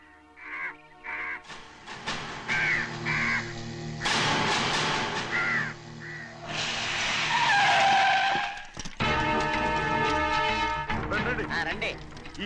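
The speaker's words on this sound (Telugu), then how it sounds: "ఈ ఏరియాలో ఒక్క కాకి కూడా ఉండాలని వీలేదు." Crows cawing in a movie scene, several harsh caws in short bursts at the start and again mid-clip, under loud dramatic music and screeching effects.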